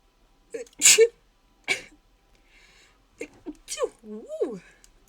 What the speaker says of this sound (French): Je déteste éternuer.